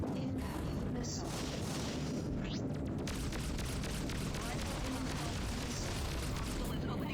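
A missile strikes during a space dogfight in the game Freelancer, with a heavy boom followed by crackling blasts and rapid bursts of fire over a constant noisy roar.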